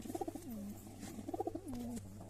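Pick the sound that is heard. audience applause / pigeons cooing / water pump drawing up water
pigeons cooing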